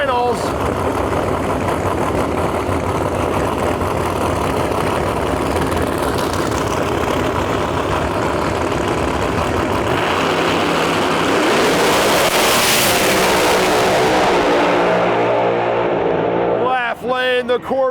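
Drag racing pro trucks in an eliminations final at a Lights Out event, loud engines revving hard then roaring off on launch, fading to a high whine, with an announcer's voice over the top.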